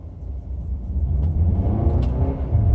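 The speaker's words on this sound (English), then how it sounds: "All right, accelerating." A 2020 Mercedes-Benz GLB250 SUV engine hums low and smooth as it accelerates, a steady rising rumble heard from inside the vehicle, with a couple of faint clicks.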